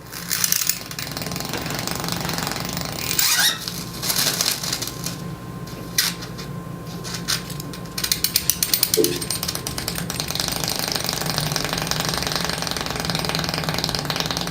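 Quarters laid on a slab of dry ice vibrate and rattle, giving a continuous loud buzzing, scraping clatter with metallic ringing bursts throughout, close up and with no talking.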